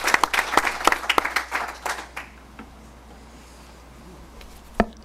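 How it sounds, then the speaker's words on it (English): Applause for students at a school board meeting starts strong with distinct individual claps, then thins and dies away after about two seconds, leaving a quiet room and one last stray clap near the end. "I think they deserve another round of applause."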